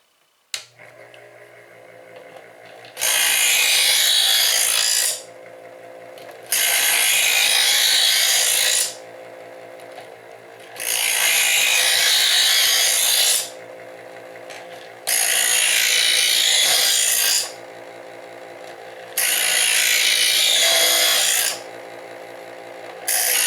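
A WHENOW 4-in-1 60W two-stage electric knife sharpener grinds a brand-new, never-sharpened knife in five loud, even passes of steady abrasive rasping, each several seconds long, separated by the quieter motor hum of the machine.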